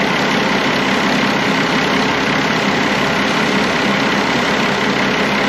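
An Allis Chalmers 180 tractor's six-cylinder engine idles steadily after getting a new muffler, giving a loud, continuous, even drone close by with no talk.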